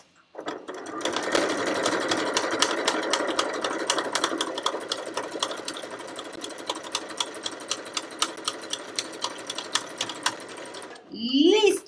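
A Piccolo sewing machine stitches a Christmas fabric border with a steady, loud, rapid mechanical whir that runs unbroken for several seconds before stopping, followed by a brief voice.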